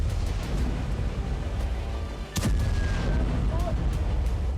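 Bombing by fighter jets over Lebanon, heard as heavy, continuous low rumbling with a brief dip and a sharper blast near the middle, loud and distant-sounding.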